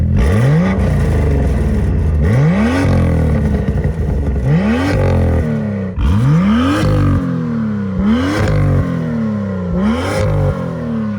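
A BMW M2 F87 engine revs loudly about seven times in sharp blips, each followed by its distinctive over-rev crackling, popping exhaust burble as the revs drop, close by and without speech.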